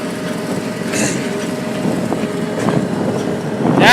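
A John Deere X724 tractor engine drones steadily while driving through a field, a low continuous rumble with faint rattles and clunks, growing slightly louder toward the end.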